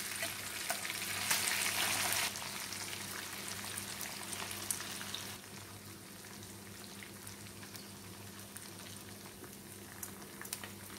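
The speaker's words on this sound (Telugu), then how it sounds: "తిప్పుకుంటూ వేయించుకోండి" Koramenu fish fry in a hot pan with steady, dense crackle and spatter. It is louder for the first couple of seconds, then settles to a quieter continuous sizzle with scattered pops, close by and with no voices.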